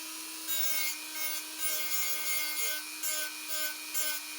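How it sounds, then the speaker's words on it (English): A Dremel drum sander works along the rim of a woodgrain tumbler, giving a steady high whine with short repeated bursts of gritty sanding, close and alone. "kind of just rest my drum sander on the rim"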